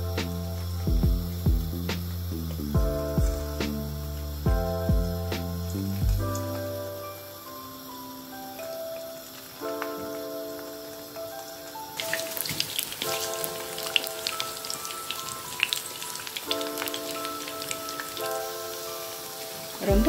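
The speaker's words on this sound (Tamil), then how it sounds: "இப்போ அதுக்கு வந்து கறியை பொறிச்சு தான் செய்ய போகிறோம்" Chicken pieces deep-fry in hot oil in a kadai, a crackling, spitting sizzle that grows busier partway through, set under background music with melodic tones.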